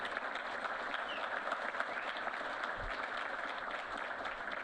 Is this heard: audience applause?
yes